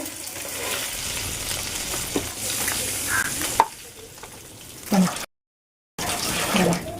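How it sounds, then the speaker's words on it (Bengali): Paneer sizzles loudly in hot oil in a pan with stirring and scraping noises, then the sound cuts out for a moment and the frying resumes. "ঢাকা আমার পনির ভাজা হয়ে গেছে আমরা এটা নামিয়ে দেবো"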